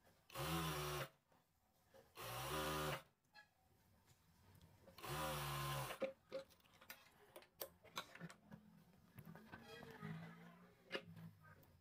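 An electric sewing machine stitches the side slit of a kameez in three loud, steady whirring runs of about a second each, separated by pauses, then gives way to quiet fabric handling and clicks.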